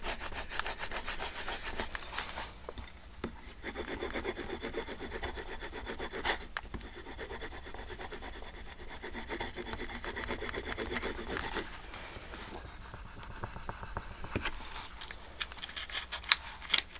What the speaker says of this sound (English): New rub-ons are great. They just rub right on.